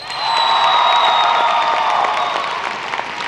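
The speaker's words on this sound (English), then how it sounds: "Once again, please join me in a round of applause for these outstanding students" Loud, steady applause mixed with cheers and whoops fills a high school graduation ceremony, a dense wall of clapping from a large audience that holds for several seconds and begins to thin at the end.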